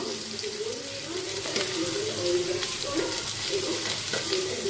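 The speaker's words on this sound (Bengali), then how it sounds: "এইটা একটু ভাজা হোক পটল আলুটা" Pointed gourd and potato fry in a little oil in a home kitchen, a steady close sizzle with occasional stirring scrapes, and someone talks quietly over it.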